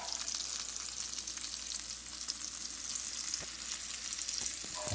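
Pork chops frying in a pan over low to medium-low heat, giving a steady, even sizzle with faint crackles and a few soft pops throughout, no talking.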